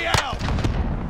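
RPG rocket launcher firing in Call of Duty: Modern Warfare, a single sharp boom with a broad blast that rolls off quickly over ongoing battle noise.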